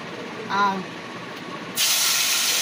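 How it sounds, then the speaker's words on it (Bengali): Pointed gourd frying in oil over an onion tempering, a steady close sizzling hiss that bursts in suddenly and holds, after a brief voice earlier. "আর এই পটল কটা ভেজে নিই"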